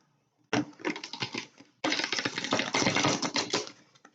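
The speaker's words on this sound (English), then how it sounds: "Just giving the cards a shuffle." Two bursts of rapid crisp riffling as a deck of cards is shuffled close up, the second longer, separated by a brief pause, no speech.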